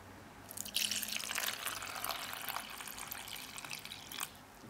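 Liquid is poured into the middle of a container while mixing a homemade anti-dandruff, anti-hair-loss hair spray, a close, soft splashing trickle lasting a few seconds before tapering off.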